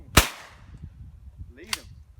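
A shotgun fires at doves during a South Texas dove hunt, one sharp outdoor blast followed by a fainter second crack under light wind and ambient noise.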